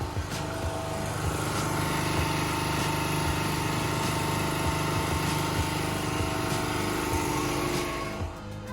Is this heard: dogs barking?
no